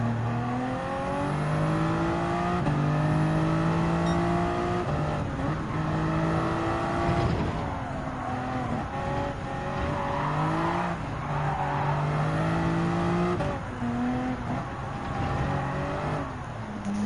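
Race cars in Gran Turismo 7 at a Nations Cup event on the Grand Valley Highway 1 circuit, engines droning and revving continuously with rising and falling gear pitches, several cars close together, loud and steady throughout.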